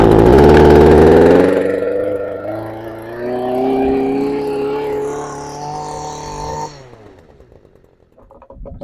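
A small gasoline engine on a power sweep brush runs loud and near, its buzzing tone rising and falling unevenly as the throttle changes, then cuts back sharply near the end.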